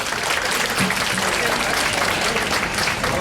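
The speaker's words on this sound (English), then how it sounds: "Huge applause for Brother Raed." Banquet guests clap for the emcee at an annual community dinner, a sustained, fairly loud round of applause with a few faint voices mixed in.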